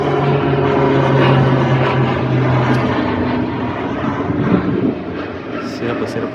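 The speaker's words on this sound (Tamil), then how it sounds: "ஓ அதான் ட்ரைனிங் ஏரோப்ளைனா?" A training aeroplane flies overhead near HAL in Bangalore, its engine a loud broad roar that peaks early and slowly fades, with people talking beneath it.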